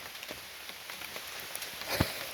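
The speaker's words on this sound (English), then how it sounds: "It's raining." Steady rain patters on a surface, a dense hiss of drops with a few louder splats close by.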